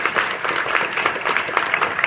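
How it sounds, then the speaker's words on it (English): Students and guests at a school ring day ceremony give a brief, lively round of applause for the parents. The clapping is close, dense and steady throughout the short burst. "myself and my classmates would like to give a round of applause to our parents"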